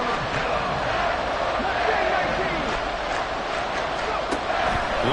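Stadium crowd in a football video game building to a roar ahead of a big third down, a dense continuous cheer running under steady commentary.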